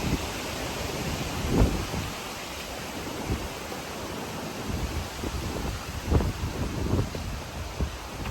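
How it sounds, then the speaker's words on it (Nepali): Strong wind gusting across an open area at Nan Tien Temple in Wollongong, a steady broadband roar with occasional louder buffets against the microphone, continuous throughout with no speech. "हावा लास्टै लागेको छ"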